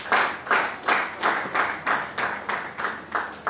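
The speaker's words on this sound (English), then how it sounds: "Please, with round of applause," Slow, steady clapping welcomes a guest at a JCI business meeting: about eight evenly spaced claps, quiet and somewhat distant, with no talk over them.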